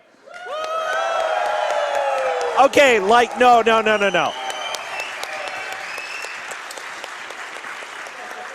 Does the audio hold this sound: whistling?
no